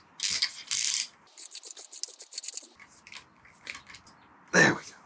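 A ratchet loosening a part on a Husqvarna Vitpilen motorcycle handlebar, several short bursts of rapid clicking followed by a quicker run of pawl clicks, close and fairly quiet in a garage.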